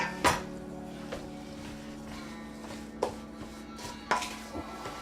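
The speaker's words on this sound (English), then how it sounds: "We're going to incorporate all this and mix this in." Venison ricotta meatball ingredients being mixed in a bowl, with a handful of sharp utensil knocks against the bowl over quiet scraping and a low steady room hum.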